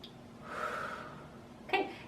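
Slow, audible breathing during a chest and shoulder stretch: one long drawn breath swelling and fading, followed by a short sharper intake near the end, close and without talk.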